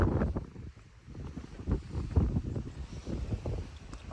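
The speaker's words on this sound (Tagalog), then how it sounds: "At medyo malakas-lakas yung hangin." Wind gusting at a campsite, a close, low rumbling buffet against the microphone rising and falling in uneven surges, moderately loud and alone without talk.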